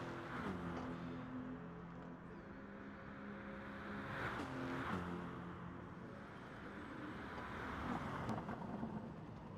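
A Nismo race car thunders down Conrod Straight at Bathurst during a touring car round, engine roar faint and distant with a rising, shifting drone and no talk.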